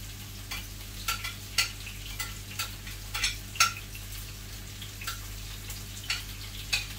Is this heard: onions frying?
yes